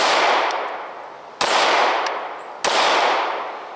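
Full-size combat handgun firing Blazer Brass 115 grain ammunition, with two loud, sharp shots about a second apart, each followed by a long ringing decay into the open air.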